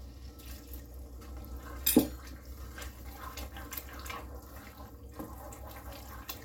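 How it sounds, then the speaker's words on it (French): Water pouring from a tap into a pot of rinsed split yellow peas and red lentils, a quiet steady running stream with a brief splashier burst near the start. "Et on va ajouter de l'eau pour couvrir."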